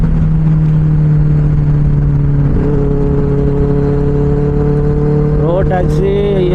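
Benelli 600i four-cylinder superbike exhaust, a steady loud drone that idles, then revs up sharply near the end, heard on a Tamil motovlog ride.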